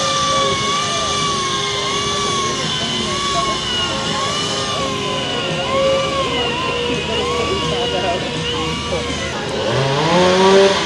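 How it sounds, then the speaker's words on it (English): A chainsaw cutting ice at an ice carving festival whines continuously at varying pitch, rising and falling as it cuts, with voices faintly in the background. "apparently stacking and planning involves chainsaws"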